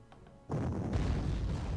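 Anti-aircraft cannon fire in the Panzer Corps strategy game, Afrika Korps Gazala Line campaign: a sudden booming burst that cuts in after a quiet moment and rolls on as a dense, sustained rumble.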